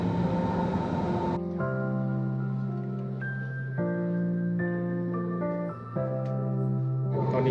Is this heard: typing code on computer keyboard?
no